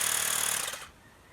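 A portable electric tyre compressor for a Honda CRF-150L motorcycle runs loud and close with a rapid pulsing rattle, then cuts out partway through, leaving near silence.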